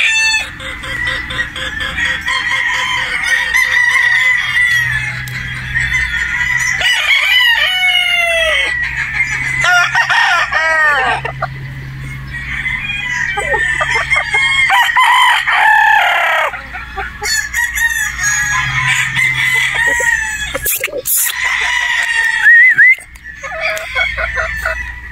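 Several Boston Roundhead gamefowl roosters crow repeatedly and close by, their calls overlapping with clucks through a busy farmyard, no talk over them.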